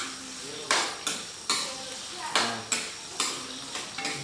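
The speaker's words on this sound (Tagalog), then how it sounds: "Tapos konting gisa." Beef being sautéed with onion in a pan for Bisaya-style adobong baka, heard as a series of sharp metal utensil scrapes and clanks against the pan over a soft, steady sizzle, close and fairly quiet.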